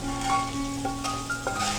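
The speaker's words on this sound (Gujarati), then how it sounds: "આ તડકાને આપણે પૌવા પર એડ કરી દઈશું" Hot tempering (tadka) poured over poha, a continuous close crackling sizzle with faint stirring and no talk.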